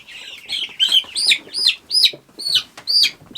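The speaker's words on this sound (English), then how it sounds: "Now I've got one mystery chicken here that they sent, and I've got 3 chicks that I hatched" Chickens and week-old hatched chicks in a chicken tractor give rapid, high chirps and peeps, with clucking mixed in, close and fairly loud, in a steady string of calls.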